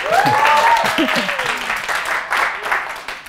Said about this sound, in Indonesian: Yuk tepuk tangan boleh boleh.